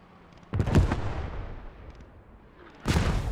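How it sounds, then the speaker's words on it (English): Mortar fire in the World War II game Post Scriptum: two heavy booms about two seconds apart, each a sharp blast that rolls off into a rumbling tail, with quieter battlefield noise in between. "Those mortars were a little bit more accurate."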